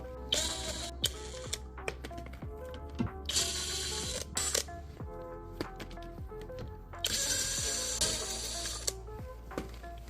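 A battery impact wrench set to its third speed in reverse, fitted with a 17 mm socket, hammers at a nut on a Hyundai Accent Era rear shock mount: several bursts of rapid rattling impacts separated by short pauses, fairly close.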